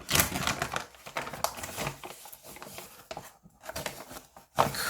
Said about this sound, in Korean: 이 종이 위에 쌀가루를